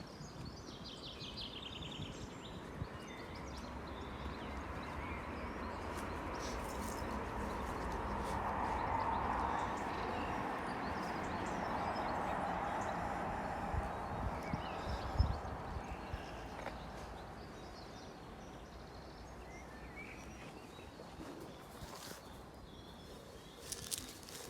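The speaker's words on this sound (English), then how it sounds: "the sound of the birds" Birdsong in a churchyard with blossoming trees at Seton Collegiate Church, faint chirps scattered over a steady low outdoor hiss, with occasional soft knocks and thuds.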